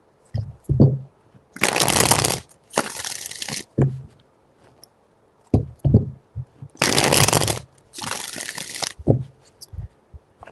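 Tarot cards being shuffled in repeated bursts, four main riffles with softer taps and card handling between them, close and fairly loud with no talking.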